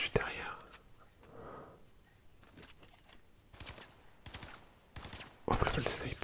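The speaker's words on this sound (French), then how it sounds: "C'est satisfaisant de tirer comme ça avec le fusil sniper." Sniper rifle shots in the video game Fortnite, a few sharp cracks spread across the stretch, with the last one loudest near the end, over soft whispering.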